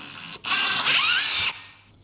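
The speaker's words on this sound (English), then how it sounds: "Now I drill my second hole right here." A power drill with a 4 mm bit bores a second hole through a small wooden bead, a steady high-pitched whirring burst of about one second that winds down at the end, close and loud with no talk.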